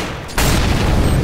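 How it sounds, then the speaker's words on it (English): In Counter-Strike, an incendiary grenade bursts into flame with a sudden loud whoosh and boom after a short quieter lead-in. A dense, roaring fire noise then fills the rest of the brief moment. "I'm gonna set it on fire. Incendiary!"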